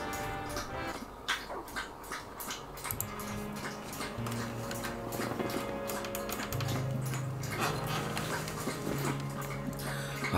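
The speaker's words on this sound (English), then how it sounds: "dog lapping up that water super loudly there in the background" A dog laps up water loudly somewhere behind a Far Cry 5 game session, a steady wet rhythmic lapping running under steady game sound and music.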